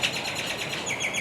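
Roadrunner birds at a zoo give a quick series of high chirping calls, close and fairly loud over faint background noise.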